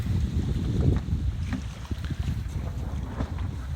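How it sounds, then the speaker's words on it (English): Maxi 95 sailboat running under sail near Plymouth Sound, with a continuous rushing wash of water along the hull and steady wind buffeting the microphone, loud and close throughout. "Sailing along just nicely."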